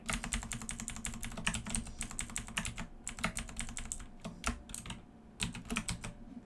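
Rapid computer keyboard typing while entering JavaScript code, keys clacking in dense irregular bursts with a few short pauses, close and steady with no talking.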